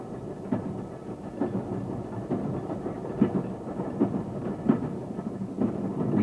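A train running toward Cornbrook Junction in Manchester in 1992 rumbles steadily from onboard, with rhythmic clickety-clack wheel beats over rail joints roughly every second beneath the low rolling noise.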